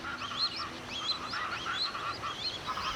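A flock of ducks in the Pantanal, Brazil, calls with repeated nasal honking cries, moderately faint and overlapping, over a steady outdoor hiss.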